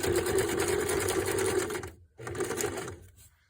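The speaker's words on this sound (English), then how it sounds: "So when I run the machine, I want to make sure to angle the strip so that this will get caught under the needle." A sewing machine stitches a paper and fabric strip on a collage roll, a close, fast, even whirr that runs for about two seconds, stops briefly, then runs again for a shorter burst before going quiet.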